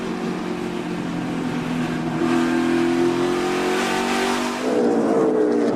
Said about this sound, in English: Comfortable lead for the 7 car Justin Allgaier down into turn 3